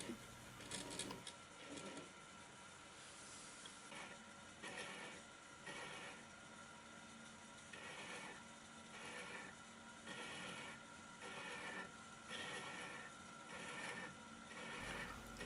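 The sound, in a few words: hand chasing a thread with a thread-chasing tool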